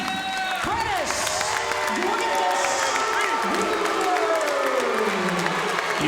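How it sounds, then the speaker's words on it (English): A boxing arena crowd reacts after a unanimous decision with a mix of cheers, whoops, scattered applause and jeers, while a ring announcer talks over the steady crowd noise. "You can hear the mixed reaction from the crowd"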